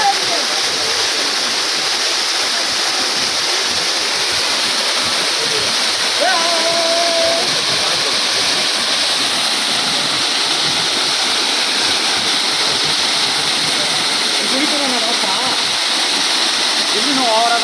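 A steady, loud roar of a waterfall's rushing water pours on without pause in Namakkal, India, with faint voices and a few brief calls barely rising above the din.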